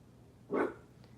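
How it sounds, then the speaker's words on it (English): A single short dog bark rings out clearly around the middle, fairly close, in a quiet indoor room. "What are you barking at?"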